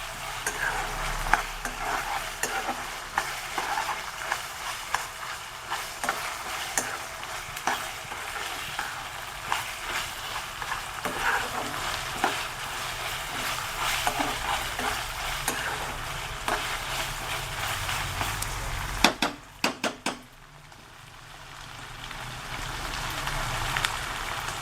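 Ginger-garlic paste fries in a pan, a close, steady sizzle broken by repeated scraping and stirring strokes, with a brief clatter near the end before the sizzling settles again; no one speaks.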